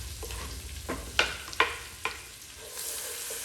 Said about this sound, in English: I am going to go ahead and dump my onions